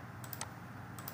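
Computer keyboard shortcut keys pressed while working in SolidWorks: a few quick, light clicks in small clusters, close and alone over a quiet background hum.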